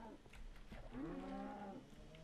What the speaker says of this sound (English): Baby cow drops.